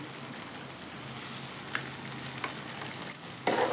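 Asafoetida powder is added to hot oil for a catla fish curry, setting off a steady, quiet frying sizzle with a few faint clicks and a louder burst near the end.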